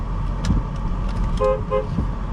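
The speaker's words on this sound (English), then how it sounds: "We got our horn." The horn of a 2009 Nissan Quest 3.5 S minivan gives two short, loud toots in quick succession, heard from inside the cabin over a steady low engine hum.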